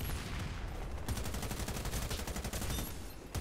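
Rapid automatic gunfire in the Warface shooter game, a dense, quick rattle of shots lasting the whole moment, fairly quiet and muffled.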